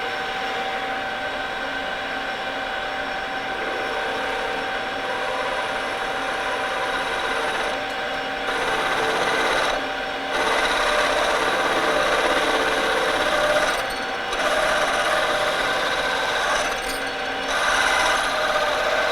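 Metal lathe drilling a large hole with plenty of cutting fluid, a steady mechanical grinding and whirring drone that holds loud and continuous, with brief dips and pauses as the bit is backed out to break chips.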